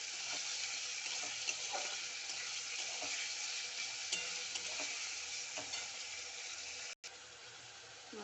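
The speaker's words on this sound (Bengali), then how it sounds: "পেঁয়াজগুলো একটু ভাজা ভাজা হয়ে গেছে" Onions frying in a pan give a steady, soft sizzle with light stirring, continuous and fairly quiet, interrupted once by a sharp click near the end; no speech.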